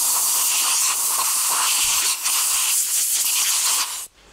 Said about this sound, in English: we'll hit it with some compressed air